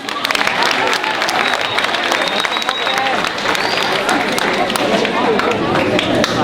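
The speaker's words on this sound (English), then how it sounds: "Let's give them a round of applause." An audience at a school poetry slam assembly applauds the judges: sustained, loud crowd clapping that fills the whole stretch with a steady roar.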